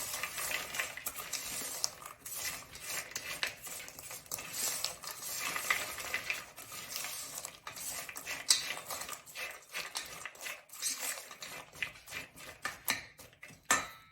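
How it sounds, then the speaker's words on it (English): A spicy Cajun nut mix is stirred in a bowl to coat the nuts, giving a steady clatter of nuts knocking and rattling against the bowl and spoon, close up and continuous, with no talk. "Stir to coat."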